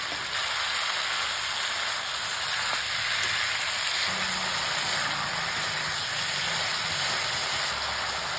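Spinach sautés in a pan with green chilli and salt, giving a steady, even sizzling hiss that carries on without a break at close range.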